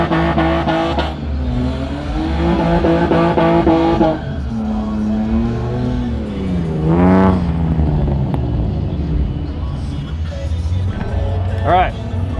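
A BMW E36 drifts for the first time, its engine revving and swinging in pitch through long slides while people talk loudly over it.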